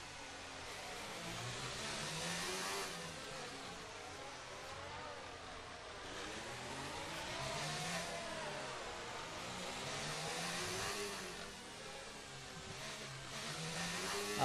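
A Force India Formula 1 car in F1 2019 at Monaco, heard as a continuous high-pitched engine whine that rises and falls with gear changes and acceleration, fairly steady and moderately loud, with no talking.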